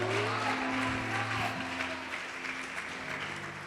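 Congregation applauding during a church worship service, a steady wash of clapping with sustained musical tones beneath, fairly loud throughout.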